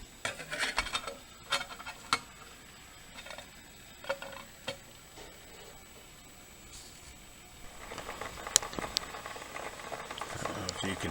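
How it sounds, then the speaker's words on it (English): Water heating toward a boil in a lightweight homemade backpacking cook pot with its lid on, a faint bubbling hiss with scattered ticks and taps that grows steadier and louder near the end. "Now we will put our lid on and see how long it takes to boil."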